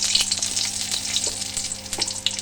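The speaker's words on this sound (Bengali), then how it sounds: "এবার আমি ফোড়নটা দিয়ে দেব ফোড়নে তেজপাতা শুকনো লঙ্কা" Bay leaf and dry red chilli tempering hitting hot oil, with a loud, close, crackling sizzle and spitting bursts sustained throughout.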